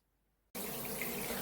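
A shower suddenly switches on and sprays water over a plastic frame, a steady loud hiss of running water that begins abruptly after a brief silence.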